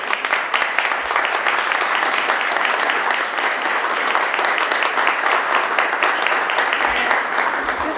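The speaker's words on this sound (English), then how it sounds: "And let's give them a round of applause." Loud, sustained audience applause for Malden High students at a holiday concert at the State House, a thick, even roar of many hands clapping that continues for the whole stretch.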